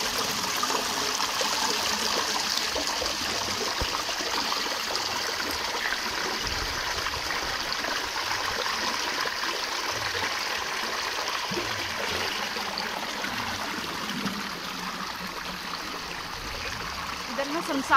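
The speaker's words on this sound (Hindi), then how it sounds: "और आवाज करती है पानी।" A river flowing steadily, a continuous broad rushing wash of water heard close and fairly loud for the whole stretch, with a voice faintly under it.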